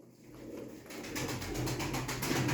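Pigeons cooing close by in a loft of prized breeding birds, soft repeated throaty coos layered over one another, steady and moderately loud with no talking.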